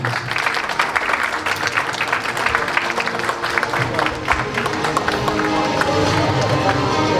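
Crowd applause welcoming an actress at a lavish new-actor introduction ceremony, dense continuous clapping at steady loudness with a murmuring voice underneath.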